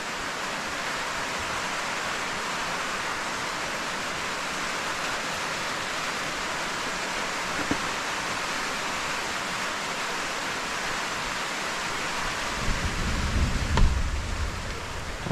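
Steady rain pours down outside an open doorway in a hilly mountain home during the rainy season, a dense continuous hiss with a low rumble building near the end.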